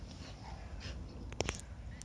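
A dog out on a walk gives a brief, faint whimper near the middle of the recording against quiet outdoor background noise.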